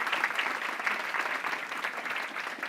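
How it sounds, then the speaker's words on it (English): An audience claps for a community engagement department crew, a lively, slightly uneven round of many hands with small swells in the rhythm, moderately loud throughout. "Give them a round of applause."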